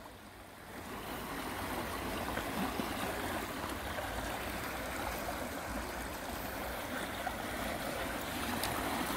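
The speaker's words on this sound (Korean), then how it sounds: "여기 좁아져가지고 물살이 엄청 빠르구나." Fast water rushes through a narrowed section of the Wangsuk Stream, swollen after heavy rain, a continuous close hiss and gurgle of current that builds slightly and holds steady.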